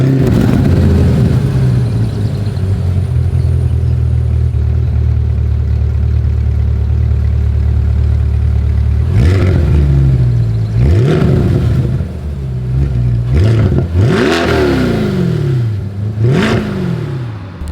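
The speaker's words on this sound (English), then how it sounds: "As always, here is that exhaust clip." A 2022 Chevrolet C8 Corvette Convertible sits at a loud, steady idle for several seconds, then its exhaust barks through a string of quick, sharp throttle blips, each rising and falling back.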